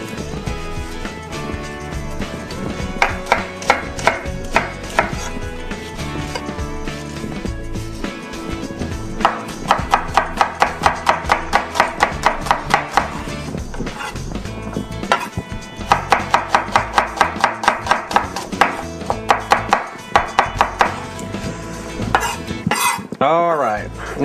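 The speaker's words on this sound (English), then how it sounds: "we're going to use some shallots here. We're just going to put a little mince on these." Knife mincing shallots on a cutting board, bursts of rapid, crisp chopping taps in several runs, close and fairly loud over background music, with no talk.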